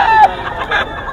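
Gamecocks and stags at a Filipino rooster farm clucking and crowing in short bursts, fairly close, with faint human chatter in the background.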